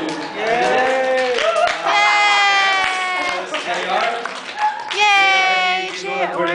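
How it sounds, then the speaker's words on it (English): A small group at a school green festival claps and cheers, with excited voices and shouts running almost throughout the applause, close and lively. "I'm going to clap."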